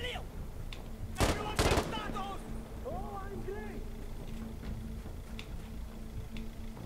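Gunfire in a shooting video game: a few loud, sharp bursts early on, followed by softer scattered shots and in-game effects over a steady background hum, with no speech.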